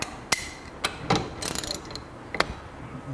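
A 17 mm wrench works on a WP 4CS fork cartridge clamped in a vise, giving a few sharp metallic clicks and ratcheting scrapes, with brief taps and a short rattling burst in between.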